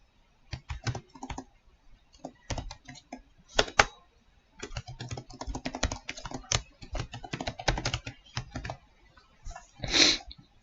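A password being typed on a computer keyboard: quick bursts of close, crisp key clicks with short pauses between runs, ending with a firmer tap.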